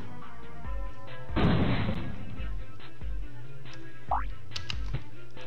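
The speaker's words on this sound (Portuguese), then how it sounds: "Enquanto essa bomba vai explodir aqui, eu vou pegar o dinheiro aqui, ó. E vou explodir aqui." A bomb blast in the mobile game Bomber Friends, one loud burst followed by short game pops and a rising chirp over steady background music.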